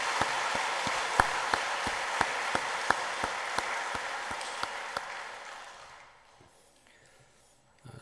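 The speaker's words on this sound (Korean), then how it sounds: "우리 부모님들께 박수를 올려드리겠습니다" Sustained applause from a church congregation in a reverberant hall, with a few sharp claps standing out, gradually fading away toward the end.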